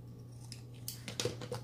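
Scissors snip away a small piece of plastic overhang while embellishing a journal, giving a few short, close crisp cuts over a low steady hum.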